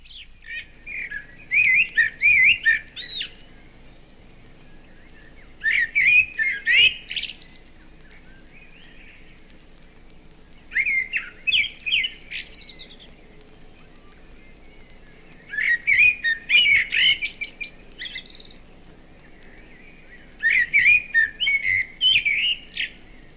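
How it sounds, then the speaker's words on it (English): A blackbird sings fluent, whistled phrases in a garden, about five clear bursts spaced several seconds apart, each rich and melodic against a quiet background. "the blackbird can be heard singing his fluent phrases"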